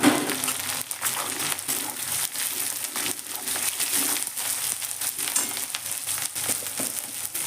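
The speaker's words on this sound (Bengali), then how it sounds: "দেখুন, এবার আমি এর মধ্যে দিয়ে দিচ্ছি কাঁচা লঙ্কা।" Green chilies sizzle and crackle in very hot oil, a steady dense frying hiss with scattered sharp pops, close and continuous without talk.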